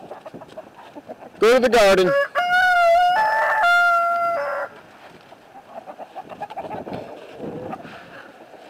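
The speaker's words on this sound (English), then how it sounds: "We're going to let the chickens out today." Backyard chickens being let out of their coop, with a loud burst of tonal rooster-like crowing and bird calls in the middle, surrounded by softer scattered clucking and a person talking briefly.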